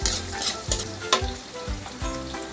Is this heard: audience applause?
no